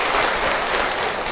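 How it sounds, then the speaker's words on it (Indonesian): Dense, loud applause from a crowd at an Islamic study gathering, a steady wash of clapping filling the short moment without pause. "Tepuk tangan untuk orang Tangerang"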